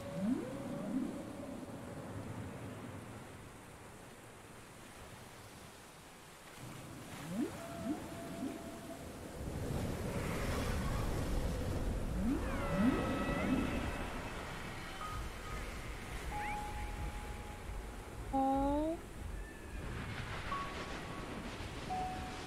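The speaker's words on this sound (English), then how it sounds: "Poor sky ocean whale." Sky ocean whale from the video game Xenoblade Chronicles 2 calls in long, low moans and rising, gliding tones over a steady wash of ambient noise, swelling and fading across the scene with several separate calls.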